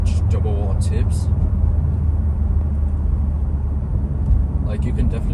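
A Mustang fitted with a Nameless Performance axle-back exhaust, 5-inch mufflers and 4-inch double-wall tips, drones in a steady low rumble while driving in winter, loud and continuous from start to finish.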